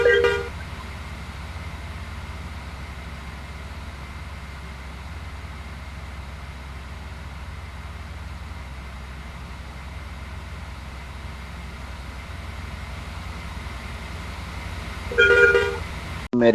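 Heavy city road traffic in a bus simulator game, with a steady engine and road rumble running throughout and a short burst of car horns honking near the end.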